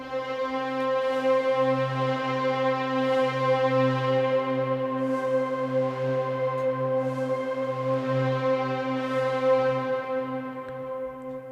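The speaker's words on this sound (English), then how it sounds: "So you really get that with a full wet reverb on 10 different layers." A dense, shimmering wash of ten layered synth tones, each with 100% wet reverb, sustained and steady throughout, ringing almost like distant bells.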